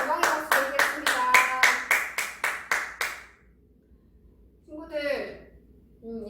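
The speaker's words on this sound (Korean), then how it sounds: "하나님께 감사와 영광의 박수 드리겠습니다" A church youth-service congregation gives a loud, rhythmic burst of applause lasting about three seconds, followed by a pause and then a voice speaking.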